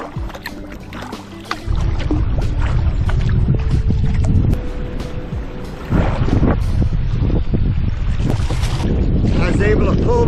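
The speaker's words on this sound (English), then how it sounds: "Can't believe how windy it is." Strong wind buffeting the microphone while kayaking through a flooded wilderness channel in Michigan, loud gusty roaring and rumbling that rises in bursts, with water and boat noises mixed in.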